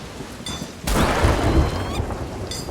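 Lightning strike crashing in during a thunderstorm at sea in the video game Safer Seas, a sudden loud burst of rumbling noise over steady rain that swells and lingers before fading.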